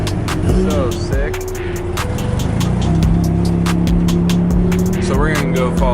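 A Nissan 240SX Type X fitted with an SR engine drives past at a car meet, its engine rumbling steadily and close by under a wash of crowd and traffic noise, with people talking nearby.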